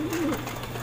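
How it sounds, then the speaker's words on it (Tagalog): Racing pigeon giving a single brief low coo at close range over a soft background hum, no speech. "Yan yung ibon natin oh."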